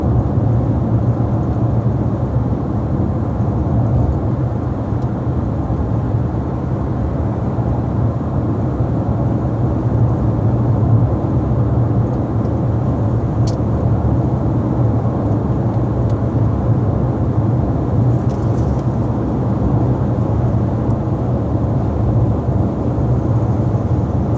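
A 2013 Ford Taurus SEL cruises along a road, its engine hum and tire roar forming a steady, unbroken low drone from inside the cabin, with a faint brief click partway through.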